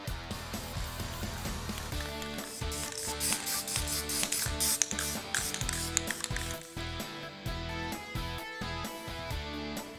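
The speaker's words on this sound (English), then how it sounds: "I'm just going to shoot them with some spray lacquer." A spray can of lacquer hisses in steady bursts, finishing wooden alphabet blocks, while music plays in the background.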